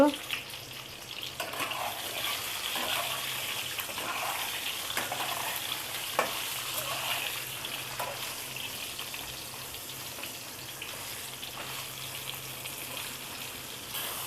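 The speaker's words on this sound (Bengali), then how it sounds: "অল্প একটু নুন দিয়ে পটলগুলো ভেজে নেব।" Pointed gourds frying with a little salt in a pan, giving a steady, even sizzle with faint clinks, continuous throughout at moderate volume and no voices.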